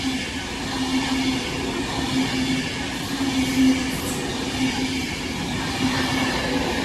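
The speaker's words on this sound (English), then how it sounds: "passing through now the next Avanti West Coast service, running from Liverpool Lime Street to London Euston" An Avanti West Coast passenger train runs past on the West Coast Main Line through the West Midlands, a loud continuous rumble of wheels and carriages with a steady hum and no break, heard close up with no voices.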